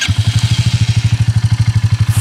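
Royal Enfield Classic 350 single-cylinder engine idles alone after an air filter install, a loud, close, even thumping pulse of roughly eleven beats per second without revving.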